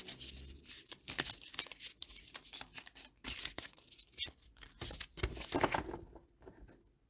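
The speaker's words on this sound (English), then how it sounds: "This is so difficult to shuffle." Tarot cards being shuffled by hand, a stiff deck giving uneven bursts of papery riffling and rubbing with short pauses, close and fairly quiet with no talking.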